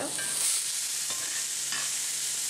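Onions, garlic and vegetables fry in a pan for a turkey meatloaf, giving a steady, close hiss and crackle that runs unbroken throughout, with no talking.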